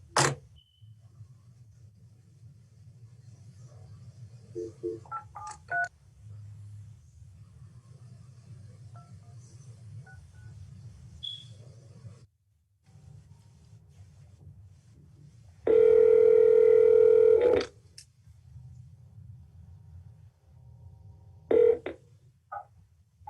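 Telephone tones over a line with low steady hum: scattered short beeps, then a loud sustained tone lasting about two seconds, followed by a brief final beep, in a city commission meeting setting.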